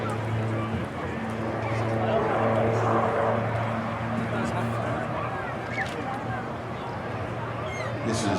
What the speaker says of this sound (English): the gear is now down, coming in for a steep approach